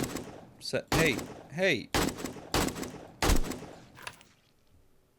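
Incendiary-ammo gunfire in the game 7 Days to Die, several loud, sharp shots in an uneven sequence with a short pause between each, mixed with whooshing game effects and a brief spoken exclamation.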